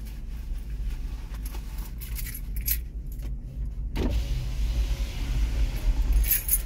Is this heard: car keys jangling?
yes